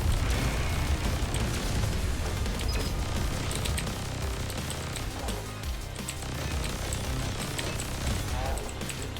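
Mines exploding in the twin-stick shooter Assault Android Cactus, dense rumbling blasts and crackling bursts piling up continuously over busy game noise, loud throughout, with a voice speaking over the action.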